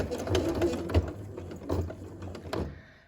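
A sewing machine stitching thick fabric runs in short uneven bursts, its needle thumping and whirring quietly, slowing and stopping at the end.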